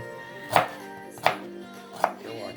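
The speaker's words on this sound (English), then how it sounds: "now I'm going to cut up my ginger" A knife chopping ginger on a cutting board, three separate sharp chops spaced evenly and heard close up in a quiet kitchen.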